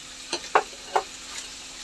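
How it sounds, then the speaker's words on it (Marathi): Carrot, potato and eggplant pieces are stir-fried in a pan for mixed vegetable bhaji: a faint steady sizzle with three distinct spatula scrapes near the start, then quieter frying. "वांग्याचे तुकडे सुद्धा परतवून घ्यायचे आपण चांगलं."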